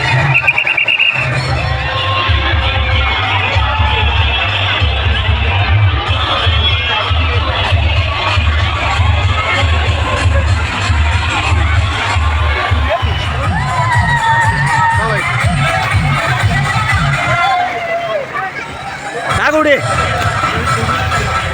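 A large crowd at a resort water slide cheers and shouts, children's high voices rising over the dense hubbub. The excited noise stays loud and continuous, easing briefly near the end.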